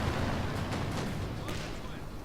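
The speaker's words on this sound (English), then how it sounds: "Let me bombard an MG first, Brown." Artillery bombardment in the video game Company of Heroes 2, a dense continuous roar of rumbling blasts and crackling impacts, loud and steady throughout with no clear gaps.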